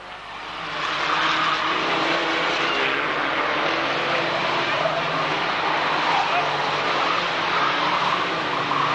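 Race cars at a 1991 Braintree Auto Club van meeting run slowed under a yellow flag after a rollover crash, their engines a steady, fairly distant drone holding throughout with a faint tire-like whine and no clear speech.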